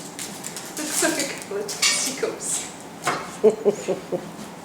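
Kettle-barbecued pork being carved with a knife, with metallic scrapes, clinks and cutlery taps on a board or dish, irregular and close, under intermittent talk.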